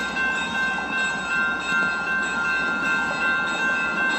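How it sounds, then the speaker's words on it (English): A CSX track geometry train rolls past on the railroad with a loud, steady rumble of cars and wheels, and a few faint tonal squeals ride over the continuous noise. "Oh, more of the CSX Railroad."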